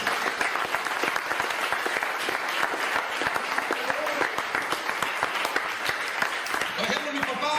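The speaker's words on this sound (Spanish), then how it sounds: "Dar un aplauso al Señor." A church congregation applauds during a Spanish-language service, with dense, steady clapping from a crowd running throughout and voices mixed in.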